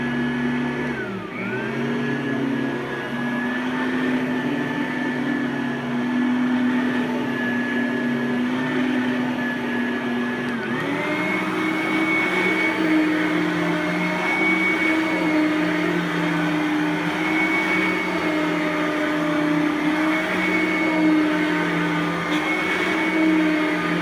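A Simplicity Freedom upright vacuum cleaner runs steadily and loud, its motor whine holding at low speed before a clear shift about halfway through to a higher, stronger pitch at high speed, with no voices.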